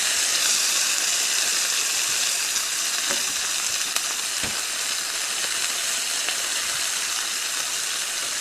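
Beef tenderloin pieces sear in a hot pan, a loud, dense, unbroken hiss of sizzling fat close up, with a couple of faint knocks as pieces are turned and no voices.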